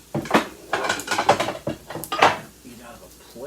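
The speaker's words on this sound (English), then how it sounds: "I'm gonna grab a bowl" Ceramic bowls and dishes clatter as a bowl is pulled from a stack in a home kitchen while making a Denver scramble, several sharp knocks and scrapes in quick succession, close and fairly loud.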